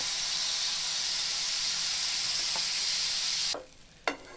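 Grated raw papaya fries in ghee in a pan with a steady, loud hiss that fades out near the end, followed by a couple of sharp spoon scrapes.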